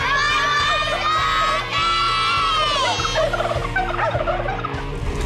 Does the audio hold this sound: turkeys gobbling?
yes